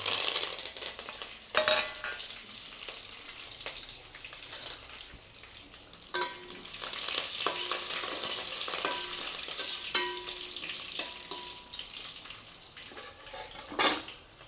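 Crushed garlic, curry leaves and dried red chillies fry in hot oil, giving a steady close sizzle broken by a few louder stirring scrapes and splashes, with no one talking.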